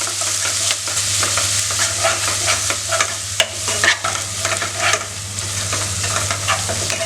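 Onions sauté in a hot pan for fish curry, sizzling continuously while a utensil stirs and scrapes through them, close and fairly loud with no talking.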